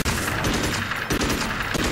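Rapid gunfire from a gun in the Magicka video game, a dense, loud burst of shots rattling continuously for a couple of seconds with barely a pause.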